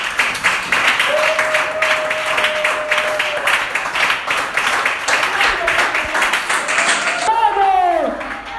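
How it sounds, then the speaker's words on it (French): A church congregation claps and cheers through most of the stretch, then the applause breaks off at the end, with a preacher's amplified voice speaking over it. "Acclame pour le roi des rois."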